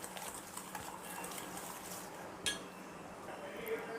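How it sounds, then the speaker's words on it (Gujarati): A ghee and sugar mixture is whisked in a bowl for wheat-flour chocolate cookies, giving a quiet, steady scraping with faint clinks of the utensil against the bowl. "ઘી અને ખાંડના મિક્સરને 2 થી 3 મિનિટ માટે રીતે ફેણીશું"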